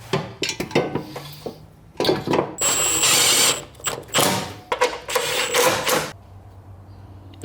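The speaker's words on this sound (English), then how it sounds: "These wrenches are amazing." A ratchet wrench tightens a fitting on an LS-swapped Miata build, producing close, loud bursts of rapid metallic clicking and clattering in irregular spurts separated by brief pauses, with no talking.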